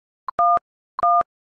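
Two short electronic keypad presses from the video game Elmwood Trail, each a crisp dual-tone dialing beep with a brief click before it, evenly spaced against silence.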